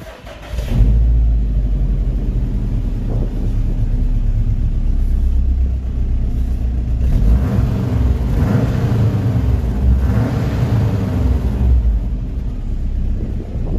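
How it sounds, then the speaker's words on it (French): A Japanese 2.5-litre boxer engine with a non-original exhaust starts beneath a bridge, then settles into a loud, steady, low rumbling idle that echoes and swells slightly. "Alors là, on va faire un petit démarrage en dessous d'un pont."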